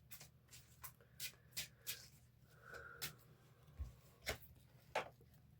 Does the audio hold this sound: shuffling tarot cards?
yes